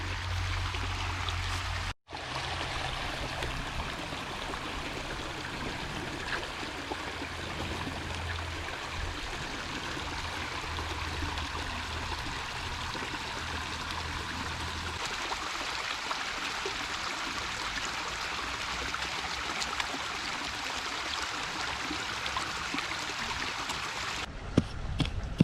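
Creek water flows steadily and continuously, with a close, even broadband rush and trickle that stays constant throughout, with no voices.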